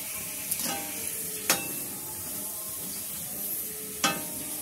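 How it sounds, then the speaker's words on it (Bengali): Store-bought phuchka fry and puff in hot oil, a soft continuous sizzle with a few sharp crackling bursts and utensil clinks scattered through, fairly quiet and close. "কেনা ফুচকাগুলো এরকম করে ভাজলে ঠিক এরকম ফুলে যায়"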